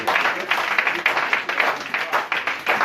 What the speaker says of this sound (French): Applaudissez très fort pour le Seigneur.